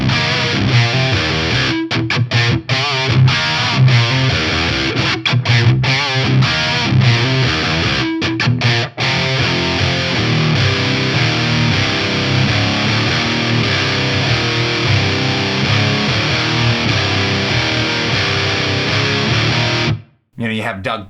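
High-gain Recto-style electric guitar through a Cygnus amp, thick distorted chords and riffs played continuously and loud, with a couple of brief stops and a short gap near the end.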